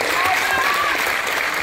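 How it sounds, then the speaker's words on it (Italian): An audience applauds at a school event, with dense, steady clapping that fills the whole moment and carries on evenly without a break. "questo applauso è vostro"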